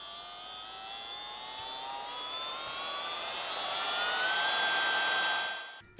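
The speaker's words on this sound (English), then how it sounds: "Now we move on to the battery powered keyboard vacuum, which I swear sounds like it's going to explode one day" A battery-powered keyboard vacuum runs steadily with a high, rising whine and airy whir that builds slightly in pitch before cutting off abruptly near the end; no one speaks over it.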